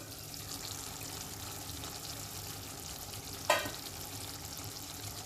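Prawns simmer in stock in a pan with a steady, soft bubbling sizzle, and a single scrape of stirring stands out partway through.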